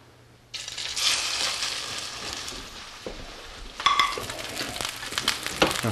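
Tuna sears in canola oil in a pan, a crackling sizzle that starts suddenly and keeps going, with a louder burst of spitting partway through and some clinks from the pan.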